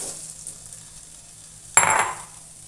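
Guava curry cooks in a pan, a faint low sizzle that swells into a brief loud hissing burst when it is stirred near the end, with no talking.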